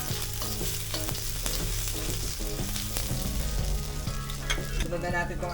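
Ginger is sautéed in a hot pan, giving a continuous crackling sizzle with frequent stirring scrapes and clinks. The sound is close and moderately loud, with no voices.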